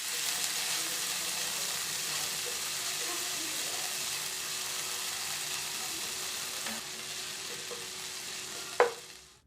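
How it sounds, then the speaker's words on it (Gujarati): Cumin and green chili-ginger paste sautéing in hot oil, a steady close sizzle running throughout, with a light clink of a utensil near the end. "સાથે 1 ટીસ્પૂન લીલા મરચાં આદુની પેસ્ટ એડ કરી અડધી મિનિટ સાંતળી લે।"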